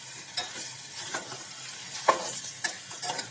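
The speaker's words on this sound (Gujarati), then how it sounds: "ચાલો હવે આપણે તેને બરાબર મિક્સ કરી લઈએ" Boiled potatoes being stirred in a pan with red chili powder and coriander-cumin powder, giving a soft continuous sizzle broken by several scraping stirs, close and moderately quiet.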